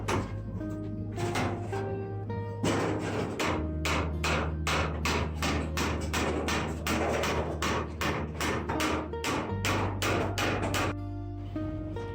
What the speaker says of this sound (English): using a hammer to secure and reinforce the formwork supporting the third floor slab